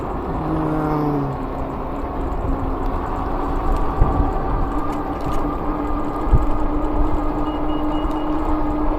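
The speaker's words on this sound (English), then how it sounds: "There's the Amtrak." An Amtrak passenger train rolls past at moderate distance as a steady rumbling roar with faint rail clatter, heard during an e-bike ride home along city streets.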